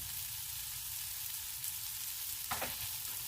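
An egg is stirred quickly in a hot frying pan for pad thai. A close, steady sizzle continues throughout, with one brief scrape of the utensil near the end and no speech.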